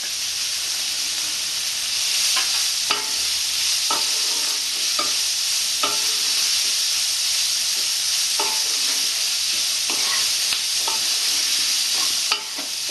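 Onions sizzling in hot oil with chilies, salt and turmeric, a steady loud frying hiss broken by repeated scrapes and clinks of a spatula stirring the pan, with no voices.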